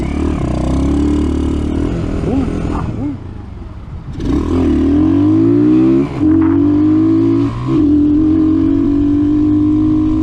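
An RPS Racer 140 motorcycle fitted with a Nibbi PE24 carburetor runs loud and close while riding, its engine droning through gear changes with brief dips and rising revs.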